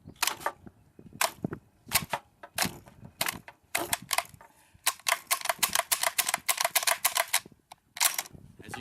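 A Remington Model 700 bolt-action rifle being unloaded, a rapid series of sharp metallic clicks and clacks from the bolt and action, close and loud, in irregular bursts with short pauses between them.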